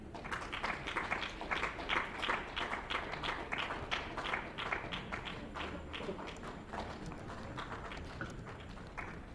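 An audience applauds a keynote speaker at an economic development event, a spread of many hands clapping in a dense rattling patter that starts strong and gradually thins out.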